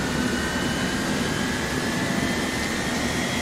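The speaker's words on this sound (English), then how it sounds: "start engines, so we just move this switch to ground, and that should be a whirring" Boeing 727-200F jet engine spooling up on the ground in the X-Plane 11 flight simulator, a steady broadband roar with a thin rising turbine whine, continuous and even throughout, without speech.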